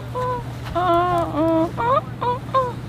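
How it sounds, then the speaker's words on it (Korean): A mountain turtle dove gives a series of short, clear hooting calls outside a house, several rising and falling notes over a low steady background hum. "그게 산 비둘기 소리래."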